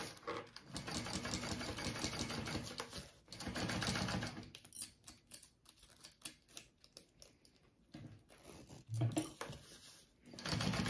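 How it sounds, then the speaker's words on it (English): A sewing machine top stitches a backpack pocket in bursts of fast, rattling mechanical stitching, with short pauses and lighter clicks between runs, fairly quiet overall. "I'm top stitching along the pocket piece here."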